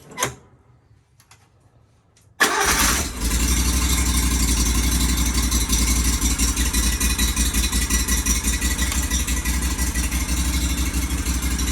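A Ferris Z1 riding mower engine, choked on a chilly day, cranks and catches abruptly after a quiet start, then settles into a loud, steady idle with a fast ticking pulse that runs on close by.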